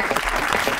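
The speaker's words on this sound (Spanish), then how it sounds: "un aplauso para Kike" A comedy show's studio audience bursts into dense, close applause, heard only as a short, uniform wash of clapping with no talk.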